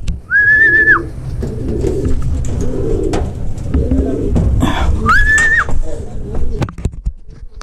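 A racing pigeon coos repeatedly with low throaty calls at a derby race, while two bright rising whistles cut through and people talk in the background.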